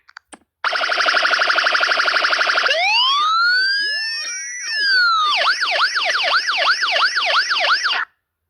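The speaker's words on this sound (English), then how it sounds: "Siren. Seven seconds. Row five. Column one." An electronic siren ringtone cycles through a steady warble, a rising and falling wail, then a fast yelping sweep, loud and close, with no talking.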